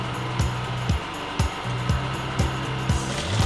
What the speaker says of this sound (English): Then I will top stitch on the pocket bag.